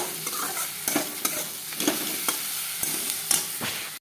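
Spices and chili fry in a pan with a constant close sizzle, while a spatula taps and scrapes against the metal in repeated sharp strokes.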